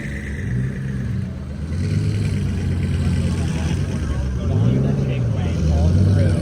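A Koenigsegg Cinque supercar rolls past at Monterey Car Week, its engine note climbing and falling in revving swells over a steady low rumble, loud and near.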